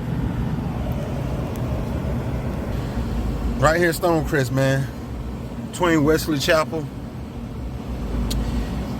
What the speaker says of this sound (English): I'm stuck in traffic